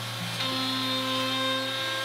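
A router cuts holes through solid oak for a desk, guided by a template: a steady, loud, whining motor drone with a sustained high pitch and continuous cutting noise running the full two seconds.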